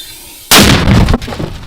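A single heavy 120 mm mortar shot booms out suddenly, very loud and close, with a rumbling echo that trails off over the next second.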